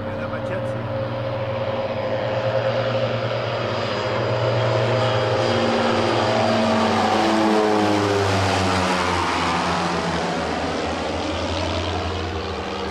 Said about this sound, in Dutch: De Bronco stamt uit de Vietnamperiode en wordt aangedreven door twee turbopropmotoren.